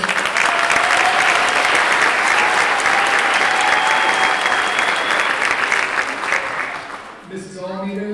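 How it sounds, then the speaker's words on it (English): An audience at a 7th grade school music concert gives the students sustained, dense applause for several seconds, fading as a voice begins talking at the end. "So we have a round of applause for our students first."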